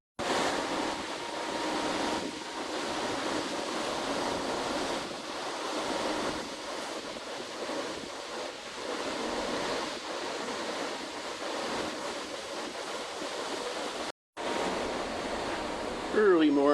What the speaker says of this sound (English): Early morning, and we are out at sea.